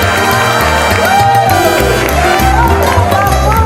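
Audience clapping after a dance performance at a cultural gathering, a dense steady wash of applause and crowd noise with music playing underneath.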